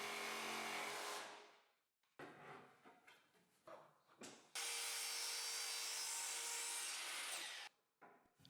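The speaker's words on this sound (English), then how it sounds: "I'll finish this job with a jigsaw." A jigsaw cuts wood while building a hanging miter saw station, giving a harsh, close buzzing rasp in a burst at the start and a longer sustained run later, broken by short choppy cuts and pauses.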